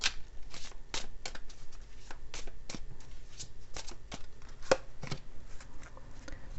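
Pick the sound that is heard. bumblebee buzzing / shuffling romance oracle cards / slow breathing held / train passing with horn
shuffling romance oracle cards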